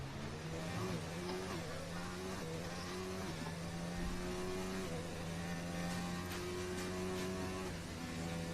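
Onboard Formula 1 car engine in a racing video game at the Belgian Grand Prix, a high-pitched whine that climbs and drops with repeated upshifts through the gears, steady and moderately quiet behind the driver's view.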